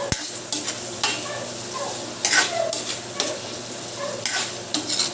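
Pork frying for menudo, with repeated stirring scrapes and utensil knocks against the pan over a steady close sizzle and no voices.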